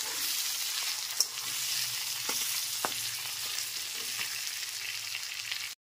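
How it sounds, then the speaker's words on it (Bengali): Potato pieces coated in salt and turmeric fry in oil over a medium flame, giving a soft, even sizzle with a few sharp spatters and light scraping, close but fairly quiet. "গ্যাসের ফ্লেমটা মিডিয়ামে রেখে আলুগুলোকে ভেজে নেব।"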